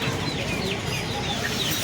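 Chickens at a busy hen market in Uluberia cluck steadily, with bird calls dotted over a dense, noisy market din at close range.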